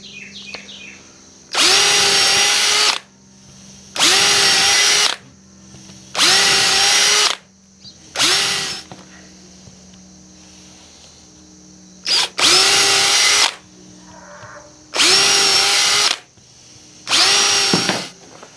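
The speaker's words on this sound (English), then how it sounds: "I've got a 3/16 bit, which is just a little smaller, that I'm going to use to pre-drill" A power drill with a 3/16-inch bit whirs in seven short bursts of a couple of seconds each, pre-drilling holes, with brief pauses between them, loud and close.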